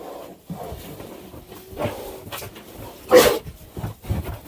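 Young piglets on a farm, in a barn under construction, romping and jostling with short squeals and bark-like yelps scattered through, one sharper louder cry near the end.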